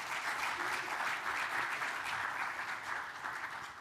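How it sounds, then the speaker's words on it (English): A foundation launch audience gives steady, fairly faint applause, a soft even patter of many hands from a distance that tapers slightly at the end. "Please give them a round of applause."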